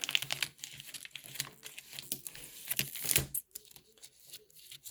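A package of sublimation paper being pulled open, with quiet bursts of crinkling plastic and tearing and a few sharp rustles and snaps, close and fairly soft with pauses in between.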